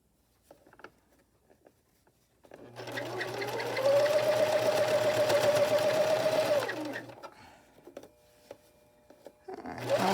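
A sewing machine stitches the seam of an 18-inch doll nightgown in one steady run of rapid mechanical whirring lasting a few seconds, close up, with soft clicks and handling before and after.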